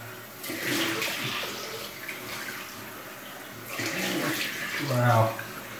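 Water runs and splashes close by as a freshly shaved face is rinsed off, in two bursts with a short gap between them, and a few murmured vocal noises come in over the second burst.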